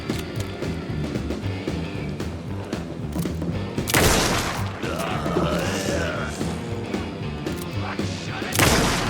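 Gunfire in the video game Alan Wake 2 crackles in rapid, loud bursts with heavy impacts and crashes, a sharp blast hitting mid-way and another near the end, layered over a busy game soundscape.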